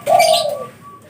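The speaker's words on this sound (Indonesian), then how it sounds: "Perkututnya jantan, sudah mulai bunyi tapi masih belum ngayer ya, masih jarang bunyi." A male zebra dove of the talang mas type gives a single close, soft coo, a short rounded call that trails into a faint thin note.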